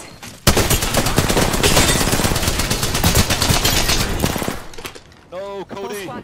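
Rapid automatic fire from an L-Star gun in a video game, a loud sustained burst lasting several seconds before cutting off, followed by brief electronic game sounds.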